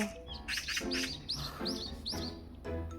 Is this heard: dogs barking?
no